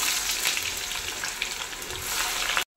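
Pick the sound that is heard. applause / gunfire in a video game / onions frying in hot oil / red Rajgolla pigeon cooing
onions frying in hot oil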